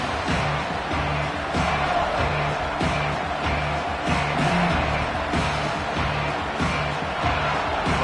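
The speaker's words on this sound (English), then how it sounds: "This crowd ready to make its presence known. Deafening noise." A roaring stadium crowd in a college football video game fills the whole stretch with a steady, loud wall of cheering and shouting, with surges and whoops rising through it.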